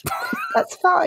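Ripley, a dog, gives a few short yips and whimpering barks in the background while a person says a brief phrase over them.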